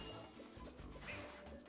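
Purple blocks shattering in Super Mario 3D World, a run of crunchy breaking and thudding impacts layered over continuous game music at steady loudness.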